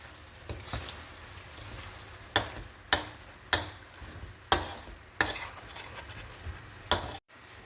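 Sisig is stirred in a frying pan with a spatula, giving about eight sharp scraping knocks at irregular intervals over a quiet, low sizzle.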